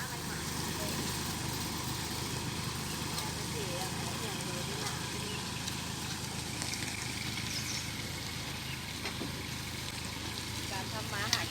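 A tractor engine runs steadily throughout on a storm-damaged, slippery rural road, a continuous low idling rumble with broad background noise, and a person talks over it.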